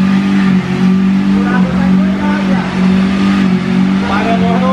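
Chevrolet Camaro engine revving hard during a tire burnout, a loud steady roar with sustained strain and faint tire squeal, close by, with people talking over it.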